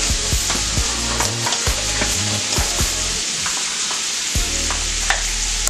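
Chicken and shrimp fry a few at a time in a small skillet, with a loud, close sizzle broken by clanks and scrapes of stirring against the pan.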